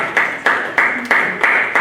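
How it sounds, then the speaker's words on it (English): Sharp claps ring out in a regular burst of about five beats at a village board of trustees meeting, loud and close with no talk over them. "let's give them a round of applause"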